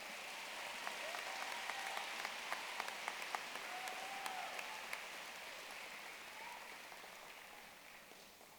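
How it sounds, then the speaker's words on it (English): Faint, distant applause rises from a large audience at the Thomas Dale High School Class of 2024 graduation ceremony for senior choir members, with a few sharper claps early on before it gradually fades. "we'll give our seniors who are in the choir another round of applause as they make their way back to their seats"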